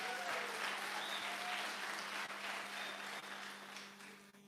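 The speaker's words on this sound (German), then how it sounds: "Ein Applaus." Congregation clapping at a church anniversary service, a soft, steady wash of applause heard from a distance that slowly fades, with a low electrical hum running under it.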